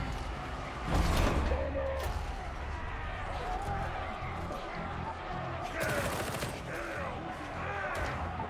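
Gunfire aimed at the player in Warhammer 40k Darktide, a burst of shots and impacts near 1 s and again around 6 s, set among dense game noise and clatter throughout.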